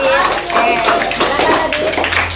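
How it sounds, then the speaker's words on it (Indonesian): Schoolchildren in a classroom clap for a group of classmates, a dense burst of hand claps running steadily for a couple of seconds with a voice mixed in. "Tepuk tangan kelompok tadi"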